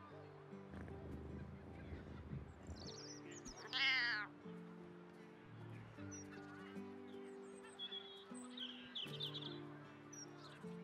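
A cat meows in the fantasy role-playing video game Baldur's Gate III, one clear, fairly loud meow rising above steady game music and faint ambient noise.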